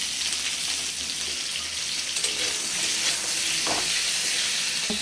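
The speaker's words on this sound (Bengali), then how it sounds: "সাইডে ফুলকপি দিয়ে দিলাম, ওই একসাথে ভেজে নেবো। দুটো একসাথে ভাজাবো।" Cauliflower and potatoes frying together in oil with a little salt, a steady close sizzle and crackle running the whole time with occasional stirring scrapes.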